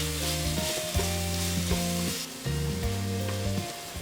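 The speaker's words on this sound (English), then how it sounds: "add 1 sliced onion and fry until it's softened slightly." Sliced onion frying in a pan for chicken katsu curry, a steady close sizzle lasting throughout, alongside background music with no talking.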